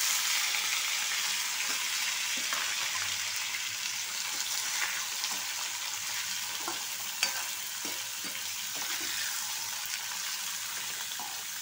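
Ivy gourd (dondakaya) pieces fry in a pan for a masala curry, a steady broad sizzle with faint stirring scrapes and one brief clink, continuous and close with no talking.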